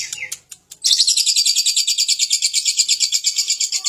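A lovebird sings at close range, a few sharp chirps followed by a long, rapid run of high, bright trilling notes in a steady pulsing rhythm, loud and alone.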